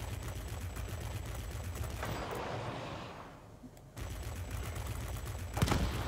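Aircraft cannons and machine guns in a flight combat game rattle in a dense, continuous roar of rapid fire, dipping briefly mid-burst before resuming loud and close.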